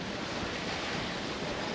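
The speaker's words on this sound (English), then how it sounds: "It's wavy and gusting up till 25 knots" Waves and gusting wind up to 25 knots while sailing on the Pacific Ocean, a loud, continuous wash of surf and wind noise buffeting the microphone, with no talk.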